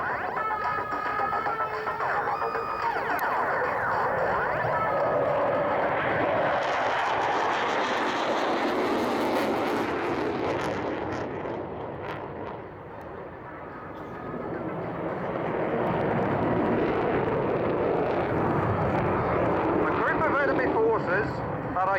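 A Tornado jet flies a strafe pass during an air show display, its engine roar swelling loud and broad, dipping briefly midway, then building again under a commentator's voice.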